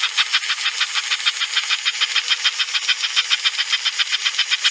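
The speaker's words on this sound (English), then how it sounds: "The American Flyer, early 1950s, 343 steam switcher engine. Running like a champ." An early 1950s American Flyer 343 toy steam switcher locomotive runs steadily with a fast, rhythmic chuffing hiss, bright and mechanical, repeating evenly without pause.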